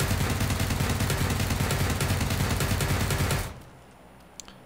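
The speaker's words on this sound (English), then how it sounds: "We're just going to do a straight fire at this... piece of concrete, full auto" A rifle fires full auto into a piece of concrete with a flash hider fitted, a long, loud, rapid unbroken burst lasting over three seconds and then stopping abruptly, followed by faint ringing quiet.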